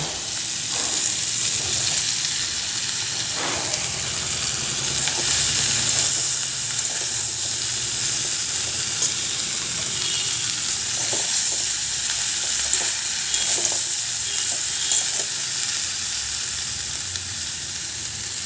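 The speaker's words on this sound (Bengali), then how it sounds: "দিয়ে চিচিঙ্গাগুলো দিয়ে দেবো কড়াতে" Ridge gourd pieces fry in a wok with a steady, bright sizzle that runs without pause, broken by occasional clinks and scrapes of stirring.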